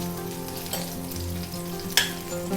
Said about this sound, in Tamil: நான் அரைக்கிறதுக்கு என்னென்ன அப்படிங்கிறத வதக்கிக்கிறேன்